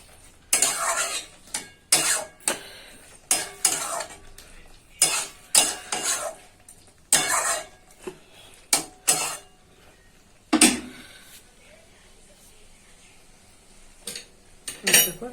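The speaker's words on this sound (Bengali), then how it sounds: "দিয়ে একটু নাড়াচাড়া করে নামিয়ে নেব" A spoon scrapes and stirs aloo posto, potatoes with poppy seed paste and a little raw oil, in a pan, with repeated close clatters of metal on the pan over a faint sizzle.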